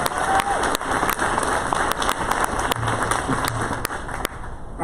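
Audience applause at a hospital cancer institute oncology tower groundbreaking ceremony, a steady wash of clapping from a crowd with scattered sharper claps throughout, continuous and fairly loud.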